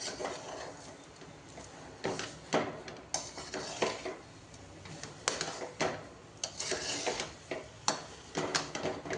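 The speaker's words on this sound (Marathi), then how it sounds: "त्याचबरोबर वेलची पावडर आणि छान परतवून घेऊयात" Spoon stirring and scraping semolina sheera with sugar and cardamom powder as it roasts in a pan, giving repeated close metallic clinks and scrapes in an irregular rhythm, with no talking.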